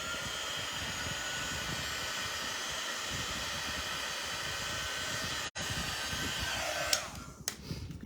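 A hair dryer blows steadily on a wooden Christmas tree craft shape, a constant close whoosh that cuts out once and then sputters with handling noise near the end.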